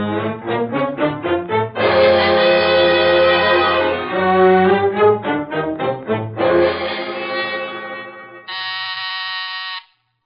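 An electric doorbell or buzzer rings repeatedly at a front door as guests arrive, a run of short harmonic bursts followed by longer sustained rings and a final steady tone, loud and close with no talk over it.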